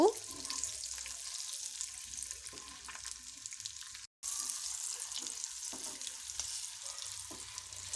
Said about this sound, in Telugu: ఇలా ఎగ్స్కి మొత్తం ఆయిల్ పట్టేలాగా మసాలా పట్టేలాగా ఫ్రై చేసుకోవాలి